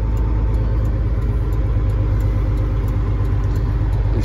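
A semi truck pulling a flatbed trailer idles and creeps through a turn in a snowy parking lot, a constant loud low engine rumble with no break.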